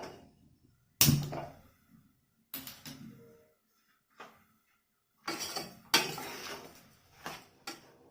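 Utensil scraping and clinking against a pan while tangy, spicy mango chutney is stirred over the flame, with several separate bursts of scraping and knocks between quiet gaps.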